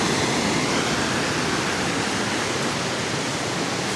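Steady rushing flow of a river at Dalry, Scotland, a dense, even wash of water noise that stays loud and unchanging throughout, with no voices or other sounds over it.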